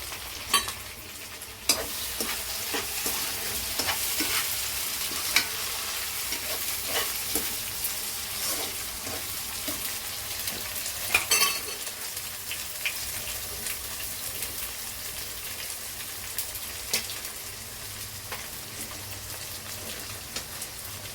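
Onions, tomato, green chili and curry leaves frying in a pan for a Godavari-style broad bean curry, giving a steady, close sizzle with occasional stirring clicks and scrapes throughout, no one speaking.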